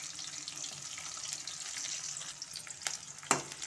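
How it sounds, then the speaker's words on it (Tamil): One large onion with a few curry leaves sautés in hot oil in a kadai, making a steady, soft sizzle that continues throughout with a few brief clinks of a stirring spoon near the end. "வெங்காயமும் நல்லா வதங்கட்டும்."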